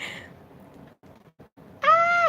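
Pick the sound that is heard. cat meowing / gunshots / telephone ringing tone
cat meowing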